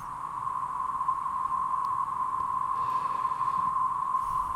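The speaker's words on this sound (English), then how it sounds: "So only some white noise," A steady white-noise hiss from a KlirrFactory Mr.Q synthesizer plugin, with a strong constant tone riding through it, unchanging and fairly loud throughout.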